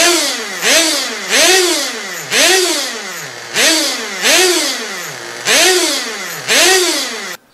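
A radio-controlled car's nitro engine during break-in gives seven sharp throttle blips in a regular rhythm. Each rises to a loud, buzzing whine, then drops back to idle, close up and alone.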